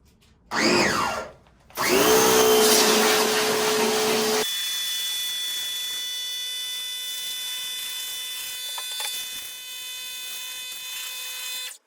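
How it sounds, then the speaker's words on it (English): A pressure washer blasts pink emulsion off a screen-printing screen, giving a loud, close hissing roar in two bursts. It then drops to a quieter steady whine with a high-pitched tone. "when we pressure wash this, we want to just get all the pink emulsion off the screen now"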